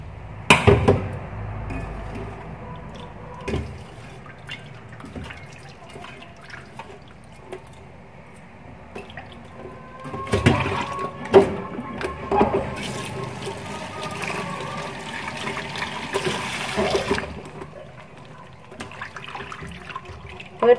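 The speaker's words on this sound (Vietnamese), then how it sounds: "bây giờ các bạn sẽ vớt ra để mình rửa lại nó nhé" Soaked cam thảo đất herb being rinsed in a bowl of water, with irregular splashing, dripping and sloshing up close, busiest in two bursts of rinsing separated by quieter trickling.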